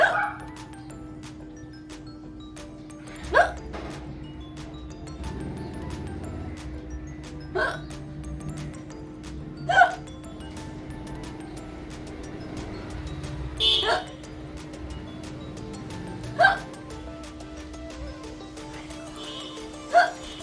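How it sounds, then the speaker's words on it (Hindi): Repeated hiccups during a hiccups challenge: short sharp bursts about every three seconds, moderately loud and close, over a steady low hum of background noise. "जैसे मेरा हिचकी अभी थाम ही नहीं रही।"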